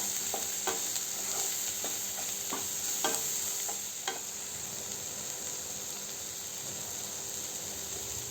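Masala for egg bhurji stirred and frying in a pan, a steady close sizzle with a series of scraping stirs spread through the first half, then an even hiss, and no talk.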